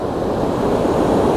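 Water rushes through the hollow spillways of the Tobacco River Dam during flooding, a dense, continuous, loud roar with no breaks and no voices.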